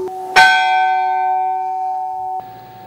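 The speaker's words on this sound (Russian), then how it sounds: "Колокол заказывал, привез с Воронежа." A church bell cast in Voronezh rings once with a sharp strike, then hums with a long, clear, sustained tone for about two seconds before a faint second touch, close and with no voices.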